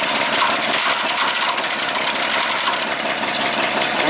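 A 1936 Chevy pickup's throwout bearing whirs and rattles with the clutch pedal pushed in, a steady mechanical buzz over the idling engine, close and continuous with no speech.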